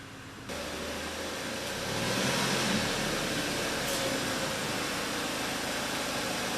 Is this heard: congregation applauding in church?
no